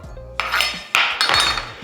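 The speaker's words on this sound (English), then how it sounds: "You're gonna take a chunk off the top," A knife cutting the top off an onion on a board, heard as two or three crisp, close knocks and crunches of the blade striking through and hitting the board.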